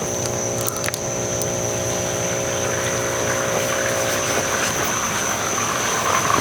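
Water from a pump-fed backyard pond waterfall and stream splashes and rushes continuously, with a steady hum underneath, and no one speaks.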